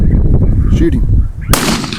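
A single sharp gunshot cracks out loud and close about midway through, fired during gun dog training in an outdoor field, after a stretch of rumbling background and distant voices.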